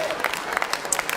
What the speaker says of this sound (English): you're going to give yourself a round of applause at this point